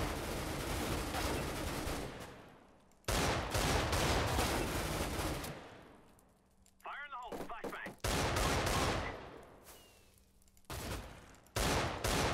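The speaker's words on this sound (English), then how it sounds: "I need to keep shooting or else I'm going to die." Sustained bursts of rapid automatic gunfire in the Minecraft Mine Strike game, loud and continuous with brief gaps between volleys, and a short pause partway through.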